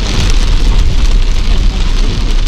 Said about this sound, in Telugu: వర్షం అయితే అసలు ఆకుండా పడుతుంది.